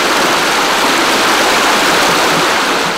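The cold, plentiful water of the Rentiniotis (Onochonos) river in the Agrafa region of Greece rushes in a loud, continuous broadband roar, steady and close throughout.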